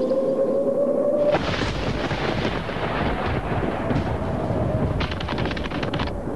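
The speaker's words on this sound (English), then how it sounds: "Get hit by lightning." A lightning strike hits with a sudden sharp crack, then a long rolling boom of thunder over steady rain. Another crackling burst comes near the end, loud and close.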